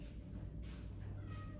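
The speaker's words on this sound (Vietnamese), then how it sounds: "Không biết cái con mèo ở nhà ấy lại vào, những em cứ kêu meo meo" A house cat meows twice indoors, two short nasal calls standing out over a steady low hum of background noise.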